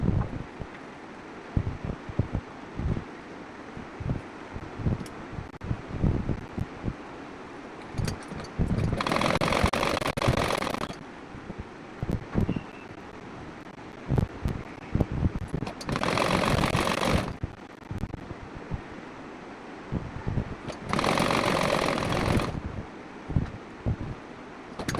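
A sewing machine stitching bell bottom pants, with scattered clicks and handling noise broken up by three long bursts of dense, rapid machine whirring.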